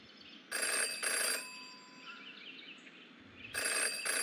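Telephone ringing in the detective video game Jenny LeClue: Detectivu, two bright electronic double-rings separated by a short pause, clear and alone against a quiet background.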